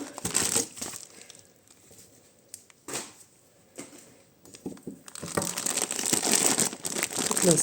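Crinkly plastic parcel packaging holding vintage jewelry shipped from America is handled and torn open, with bursts of crumpling and rustling that quiet down mid-clip and then swell into continuous close crinkling.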